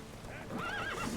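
A horse in the video game The Witcher 3 whinnies loudly with a rising, wavering neigh over steady clip-clopping hooves, close by.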